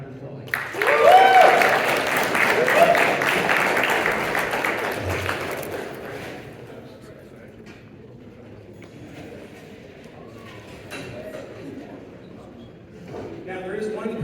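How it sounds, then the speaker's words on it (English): Convention-goers at the Young Conservatives of Texas state convention in Dallas clap loudly for several seconds while a voice carries over them. The applause then tapers into quieter room sound and scattered talk. "So please give him another round of applause."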